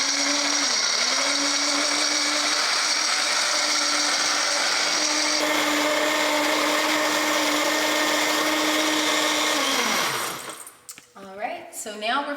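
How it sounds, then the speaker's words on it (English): A blender whirs steadily as it purees cashews into cashew cheese, a loud continuous motor whine that holds its pitch for about ten seconds before winding down; a voice starts speaking as it stops. "So now we're finished blending our cashews."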